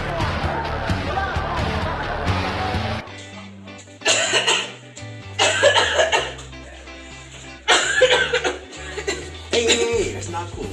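Repeated coughs from a person in a school gym crowd at a 2022 high-school basketball playoff stream, several bursts spaced across the clip over a low hum and background chatter.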